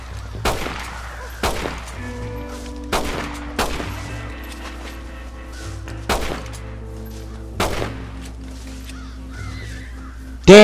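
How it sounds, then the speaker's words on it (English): Crows caw overhead over a cornfield in the Red Dead Redemption video game while sharp gunshots crack out. About seven loud shots come at uneven intervals, each followed by the birds' harsh, layered cawing. "Am I supposed to shoot every last one of these crows in the air?"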